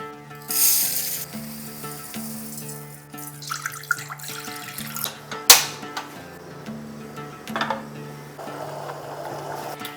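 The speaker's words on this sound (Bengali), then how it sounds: "রসটাকে আমি 5 থেকে 7 মিনিট ফুটিয়ে নিচ্ছি" Sugar syrup of sugar and water with cardamom and saffron bubbling in a pot, a soft uneven sizzle and bubbling with a sharp clink partway through, alongside low sustained background tones.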